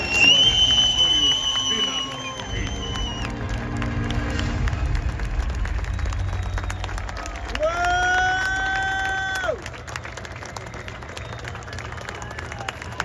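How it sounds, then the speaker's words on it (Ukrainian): Crowd at a Dynamo Kyiv football club awards ceremony applauding and cheering, a broad sustained roar of clapping filling the space, with brief tonal sounds and some speech over it. "Оплески всім, хто творив і творить"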